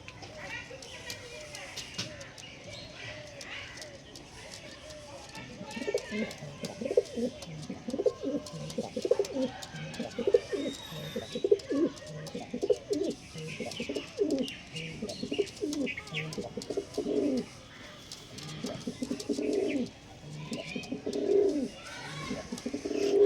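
Pigeons coo repeatedly in a loft where show birds of a top-quality breed are kept, soft throaty calls rising and falling in overlapping bursts, with chirps and faint background chatter around them.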